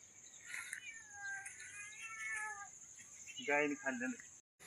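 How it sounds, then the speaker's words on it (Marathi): A cat meows several times, fairly close and clear, and a person's voice follows briefly near the end. "बघ ती मांजर बघा मांजर"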